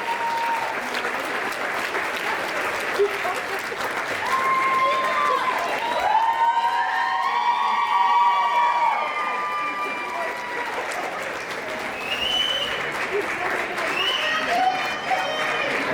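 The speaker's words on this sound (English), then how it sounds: "can you guys please give a round of applause to your winners tonight" An audience at a talent show applauds and cheers the night's winners, steady loud clapping sustained throughout with whoops and shouts rising over it, and people talking and calling out in the mix.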